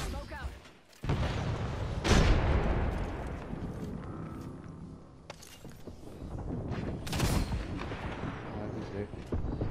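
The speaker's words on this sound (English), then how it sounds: "I'm gonna throw a grenade up there." Loud grenade blasts and booming gunfire in a shooter video game, with heavy explosions rumbling and decaying between sharper shots, and talk over them.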